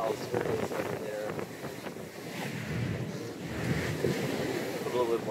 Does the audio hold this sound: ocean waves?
yes